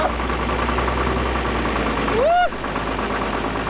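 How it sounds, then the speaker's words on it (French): A 4x4 camper truck's engine turns over and runs on a winter morning, a steady mid-pitched rumble under a rising whine that swoops up and cuts off, with a voice in the background. "Même si c'est une petite corvée de démarrer le moteur"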